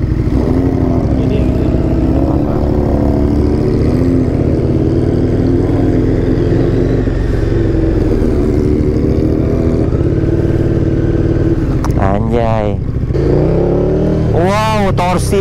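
A motorcycle engine with a full exhaust system rumbles and revs steadily throughout, with sharper rising revs near the end, while people talk over it.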